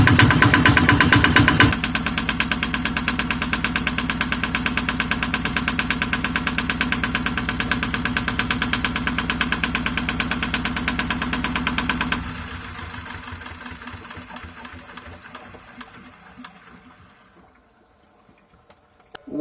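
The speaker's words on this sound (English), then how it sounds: "so now we're going to turn the engine on" A Yanmar 1GM10 boat engine turns over and settles into a loud, rapid knocking idle, running steadily before fading down and cutting off near the end.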